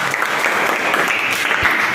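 A roomful of people applauds during a talk, producing a continuous, fairly loud patter of many hands clapping together for a couple of seconds.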